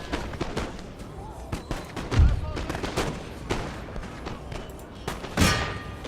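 Musket volleys and artillery fire boom across a Napoleonic-era Empire: Total War battlefield, with repeated sharp cracks and heavier thuds rolling at an irregular pace, sustained loud gunfire with someone talking over parts of it.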